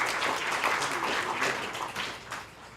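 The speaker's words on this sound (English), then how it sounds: "Round of applause, please." An audience applauds a panel of News Geezers, a full crowd clapping in a lively, uneven patter that swells and then fades toward the end.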